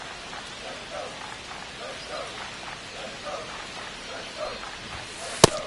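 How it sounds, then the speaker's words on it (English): Steady rain falls over a ballpark in MLB The Show 25, a soft, even hiss of drops that continues throughout, ending in a brief sharp click near the end. "This rain is not letting up."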